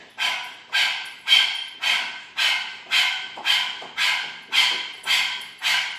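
Dogs barking indoors during a live full-moon yoga class, about ten sharp, regular barks roughly every half second, close and clear with no talking.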